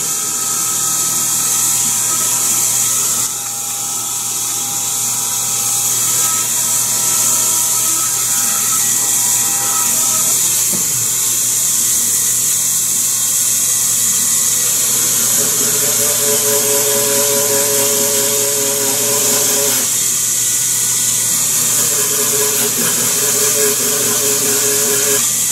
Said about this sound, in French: Le brosse du Dremel